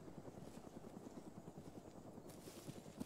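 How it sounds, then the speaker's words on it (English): A helicopter in the ARMA military game gives off a faint, low rhythmic rotor thump that pulses steadily throughout, fairly distant and quiet. "That's the helicopter."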